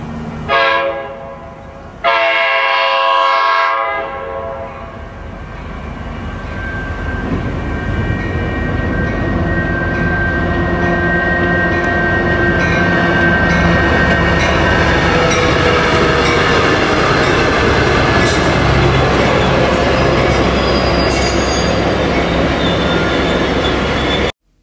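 A Coaster F40 locomotive, SDNX 2105, sounds its horn with a loud sustained blast, then a train rumbles steadily past nearby, the rolling roar building and holding for about twenty seconds with clanks and squeals.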